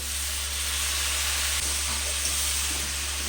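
Spices sizzle and hiss steadily in a pan as a little water goes in for a Bengali mixed vegetable chhokka, a loud, continuous steamy frying sound with a low hum underneath.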